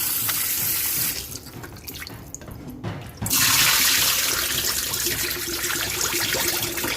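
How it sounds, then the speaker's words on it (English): Kitchen tap water running into a sink while oxtails are rinsed, a steady close rush that dips briefly as the flow is interrupted, then returns louder and continues. "Now the water's running clear."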